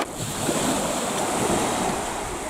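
Sea waves roll and wash close by while wind buffets the microphone, a constant rushing roar with no voices.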